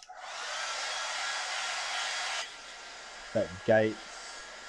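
A hair dryer runs steadily and fairly loud to dry a watercolour painting, then cuts off, followed by two short clunks or bumps and a brief spoken comment.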